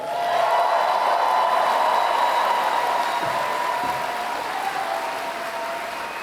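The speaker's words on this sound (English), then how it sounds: "did I wait long enough for the applause to swell?" Applause from a Comic-Con panel audience at San Diego, a broad, sustained roar of clapping and crowd noise from a large hall, steady and loud, easing slightly toward the end.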